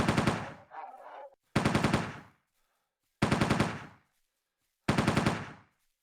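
Video-game gunfire from a weapon used for hunting creatures in Entropia Universe: four rapid automatic bursts, each about a second long, separated by short silences.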